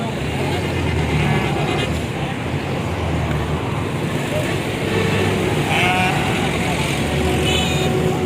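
Goats bleating at a busy livestock market in Lahore, several short bleats heard under constant crowd chatter and road traffic.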